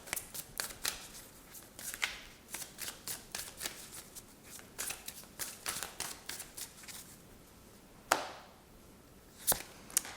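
Deck of tarot cards being shuffled by hand, a quick series of crisp flicking riffles and soft taps close by, pausing before a final sharper slap and a last short flick.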